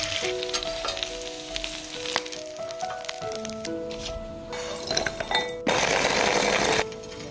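Braised food pan-fries in a hot pan, a steady crackling hiss with clinks of utensils and a louder burst of frying near the end.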